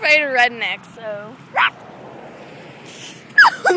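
A dog barking at passing cars gives a burst of sharp barks and yips, then whimpers. The calls come in short bunches with quieter gaps and are loud and close.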